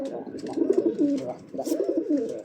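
A pair of breeding pigeons coo close by in low, throaty rolling phrases, with a short pause between the two bursts.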